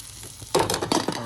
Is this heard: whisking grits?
yes